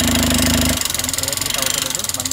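Vehicle engine running after a repair, with an abnormal noise: a steady, close, loud idle carrying a rapid rhythmic ticking or knocking pulse throughout, with talk over it.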